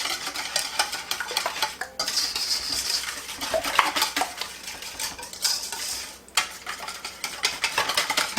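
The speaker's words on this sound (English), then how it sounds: "I have a teaspoon of salt and a teaspoon and a half of baking powder. We're going to whisk those in." A whisk stirring salt and baking powder into flour in a bowl, rapid rhythmic scraping and clinking against the sides in several bursts with brief pauses, close and without talk.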